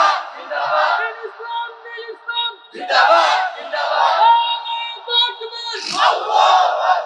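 A large crowd at an Islamic sermon roars a takbir of Allahu Akbar in three loud, surging collective shouts, each rising and fading in turn.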